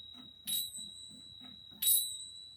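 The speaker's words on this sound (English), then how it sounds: "So I'm just going to ring the bells" A small bell rings twice at the start of a family yoga session, bright and clear, the strikes about a second and a half apart, each with a lingering metallic tone over a faint low hum.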